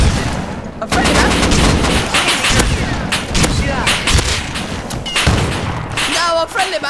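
Loud rapid gunfire from the survival game Rust during a large server-wide war, with dense overlapping shots and booming reports filling the scene while someone talks nervously through the chaos.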